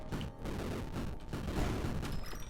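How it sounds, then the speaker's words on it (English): Explosions burst in the video game Dungeon Souls, a dense rapid series of crackling blasts and booms running together, loud and continuous for a couple of seconds. "Jeez, that explosion is satisfying when it happens."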